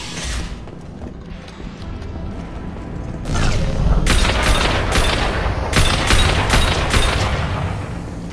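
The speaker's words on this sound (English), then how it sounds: "The Blue Suns and Vorcha are shooting anything that moves." Gunfire in Mass Effect 2 from Blue Suns mercenaries and Vorcha, starting as distant rumble and then turning into a loud run of sharp, repeated shots and bursts in quick succession over a steady battle din.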